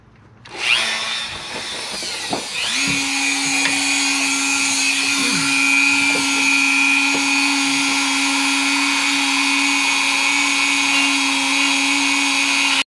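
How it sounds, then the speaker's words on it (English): A worn cutoff wheel grinds a groove deeper into metal while working on a Mazda RX-7 FC3S subframe, a loud steady whine that spins up quickly and holds for over ten seconds close by, with faint scraping under it. "can you try and take what's left of this cutoff wheel and make the groove deeper?"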